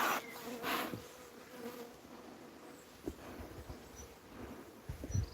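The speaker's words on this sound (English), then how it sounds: "Bees are starting to get a little bit agitated now." A steady, close buzz of many honey bees, sounding busy and agitated, with occasional soft knocks and handling noises during a hive inspection with a bee brush.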